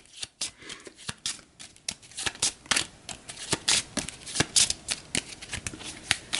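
Playing cards for the board game Aeon's End are riffled and shuffled in quick repeated bursts of crisp flicking, close by and steady, with no talking.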